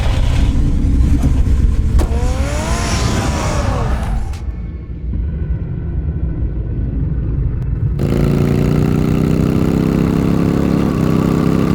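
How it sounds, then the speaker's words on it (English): A car engine from the Batman Telltale Series video game runs steadily and loudly throughout, with a continuous droning hum that drops in texture midway before swelling again. "Get the car ready, Alfred."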